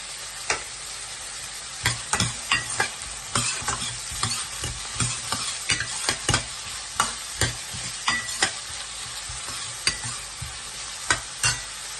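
Mustard seeds, fenugreek, onion, green chilli and curry leaves sizzle in hot oil, the crackle close and continuous with frequent scraping stirs of a spoon against the pan.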